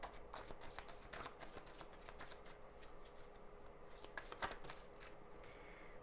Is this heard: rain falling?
no